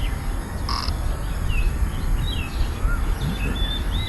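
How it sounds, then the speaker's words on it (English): Many wild birds calling at once at Kinta Nature Park, overlapping chirps, whistles and harsh caws over a dense outdoor din, some near and some farther off. "So many birds."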